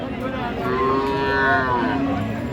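A cow moos at a rural cattle market in Dinajpur where Sahiwal cows are sold, one long drawn-out low moo rising and falling, close and loud over a murmuring market background.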